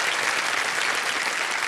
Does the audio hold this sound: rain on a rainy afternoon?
no